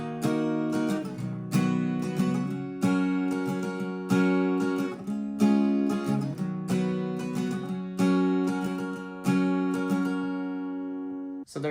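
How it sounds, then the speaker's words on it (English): Acoustic guitar interlude, strummed chords changing every beat or so in a steady rhythm, close and clear with no voices. "after the chorus, there's an interlude section that plays before he starts the next verse"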